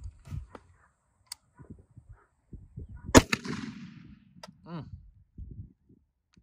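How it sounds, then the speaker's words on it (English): A single loud, sharp .50 Beowulf gunshot cracks out at a steel manhole cover, framed by scattered clicks and handling noises, with a bit of talk around it. "we'll take a shot with the extreme penetrator second"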